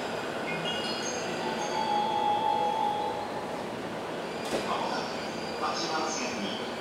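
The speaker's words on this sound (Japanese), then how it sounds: "まもなく5番線に電車が参ります。" A train pulling in at platform 5 of JR East's Nakano station, a steady rolling rumble with a thin wheel squeal near the platform and a sharp clank partway through, heard amid station ambience.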